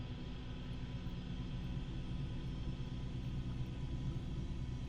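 Bell 222B helicopter turbine spooling up during engine start in MSFS 2024, a steady low rumbling whine with constant broadband hiss, close and unbroken with no talk.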